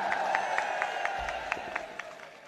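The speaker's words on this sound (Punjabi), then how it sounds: "ਦੇਖਿਆ ਇਹ ਤਾੜੀ ਵਧੀਆ ਆਪਦੇ ਦਿਲੋਂ ਆਪ ਮਾਰੀ ਹੈ" Crowd applause at a political rally in Mansa, Punjab, a sustained wash of clapping with a few sharper claps rising above it, heard from a short distance.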